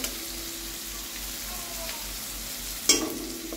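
Egg mixture fries in a pan with a steady sizzle and soft scraping as it is stirred, then one brief louder clatter near the end; no talking.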